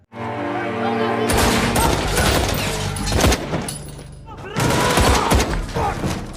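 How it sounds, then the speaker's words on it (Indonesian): Dense bursts of gunfire from a film gunfight with Taliban troops crackle in loud overlapping volleys, with a brief lull in the middle before another heavy fusillade, mixed with soundtrack tones underneath. "Yang tak lama pasukan Taliban tiba di sana, sehingga baku tembak pun terjadi."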